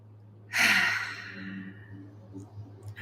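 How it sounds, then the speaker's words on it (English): A single deep exhaled breath, close and breathy, swells then fades, part of a quiet EFT tapping session. "Pause tapping and take a deep breath."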